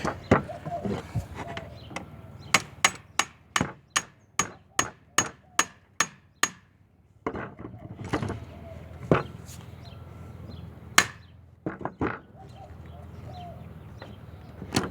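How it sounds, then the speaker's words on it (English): A hammer tapping on the gas block of an AK-47 rifle in a home workshop: a rapid run of about ten sharp metallic strikes, then scattered heavier blows with pauses between them. "Let's see if I can tap it back."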